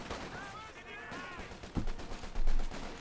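Gunfire and grenade blasts in the strategy game Company of Heroes 2, with soft distant shots first, then a sharp explosion and a heavier rumbling burst, under faint game sound.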